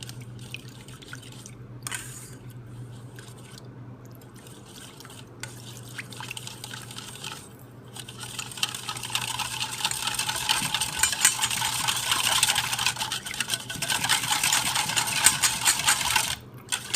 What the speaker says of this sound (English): go ahead and whisk this all together.